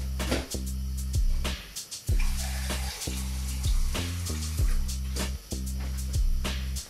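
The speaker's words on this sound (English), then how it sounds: "I'm gonna add more water now" Water pours steadily into pizza dough in a close, hissing stream, with brief pauses and surges as the flow is adjusted.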